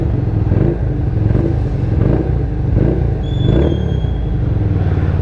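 An Italjet 66 cafe racer motorcycle engine runs at a steady idle with a throbbing, pulsing rumble, close and continuous, a truck nearby adding background noise.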